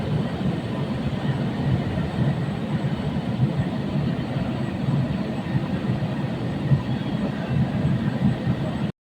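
A Kolkata Metro Orange Line train rumbles steadily and loudly throughout, a continuous low roar of wheels and carriage noise with no voices.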